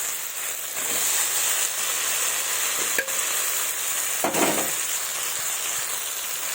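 Fried potatoes and peas stir-fry in goat fat, giving a steady close sizzle with a couple of brief scraping stirs, no talking.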